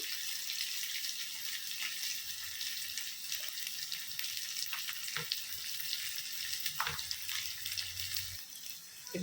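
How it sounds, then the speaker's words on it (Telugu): Onions frying in a pan for amaranth tomato curry, a faint, steady crackling sizzle with occasional soft stirring clinks, quiet and close, with no talk. "ఉల్లిపాయ సగం వేగిందండి"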